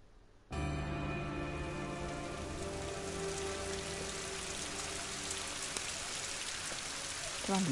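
Steady rain in London from the video game Rise of the Tomb Raider begins abruptly and then falls evenly, pattering densely on hard surfaces as a close, continuous hiss with no voices.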